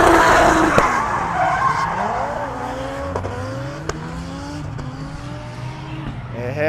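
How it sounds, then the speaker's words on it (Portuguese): Race cars drifting on a banked mini oval circuit in Londrina, Brazil, with loud sustained tire squeal and skidding, engines rising and falling in pitch, several sharp clicks, and faint voices in the background. "deve ser fazer drift em oval com inclinação aqui, né?"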